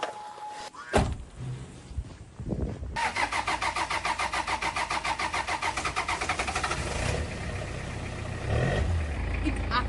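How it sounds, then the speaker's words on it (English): A diesel car engine running on fuel made from plastic waste cranks with a rapid, rhythmic chugging, then catches and settles into a steady running rumble; a short mechanical whir comes first. "This engine is powered by fuel made of plastic waste."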